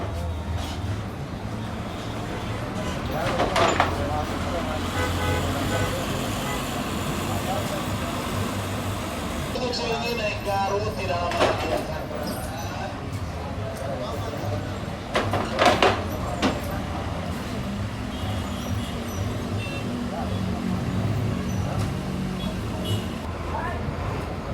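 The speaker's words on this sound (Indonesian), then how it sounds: "Dan ini sedang parkir bus Prima Jasa tujuan Garut." Primajasa bus on a Jakarta–Tasikmalaya route pulling into a parking bay at a busy terminal: a steady low engine rumble with clunks and door-like knocks, plus background chatter and ambient crowd noise throughout.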